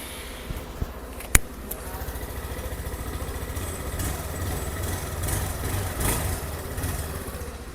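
A Suzuki Access 125 scooter engine idles with a steady, low exhaust note at close range. It hums evenly throughout, with a sharp click near the start and a slight swell in level toward the end.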